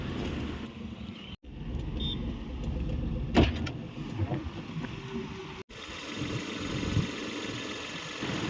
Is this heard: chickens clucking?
no